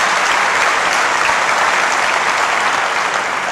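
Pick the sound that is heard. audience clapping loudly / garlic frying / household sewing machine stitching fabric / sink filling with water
audience clapping loudly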